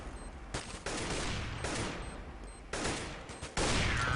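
Rapid bursts of gunfire in a Counter-Strike-style shooter game, several volleys cutting in and out with brief gaps between, loud and close with no talk over them.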